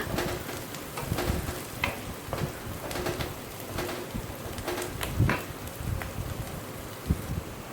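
Onions fry in a pan with a steady sizzling hiss and scattered crackles and pops, close and fairly loud throughout, turning light golden brown for egg masala.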